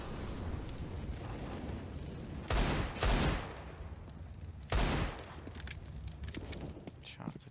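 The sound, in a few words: gunfire in video game CS:GO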